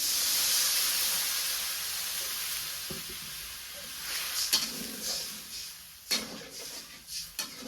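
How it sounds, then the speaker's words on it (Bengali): Water poured into a hot curry pan bursts into a loud steaming hiss that gradually fades, followed by several clattering stirs and bubbling as the mix settles. "পানি দিয়ে দিই।"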